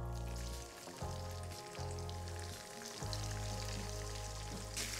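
Finely sliced onions frying in very hot oil in a pan for a Réunion-style rougail, giving a steady, close sizzle with an underlying hum and no talking.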